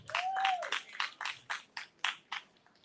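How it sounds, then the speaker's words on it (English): A small audience at a county candidate forum claps for a candidate, about nine distinct, evenly spaced claps at moderate volume that thin out toward the end. "Give candidate Walker another round of applause."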